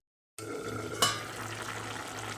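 A pan of beet and carrot curry is stirred over a steady low sizzle, with one sharp utensil scrape against the pan partway through.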